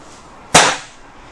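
A single sharp crack from a B2 Deluxe air rifle firing, sudden and close, with a short decaying tail over quiet background.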